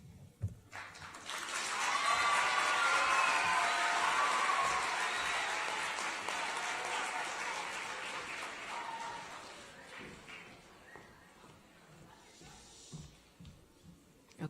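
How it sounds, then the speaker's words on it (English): Audience applause for young readers at a teen press conference, rising after a second into a dense, sustained burst of clapping that slowly thins and fades over about twelve seconds. "Can we give another round of applause for our readers?"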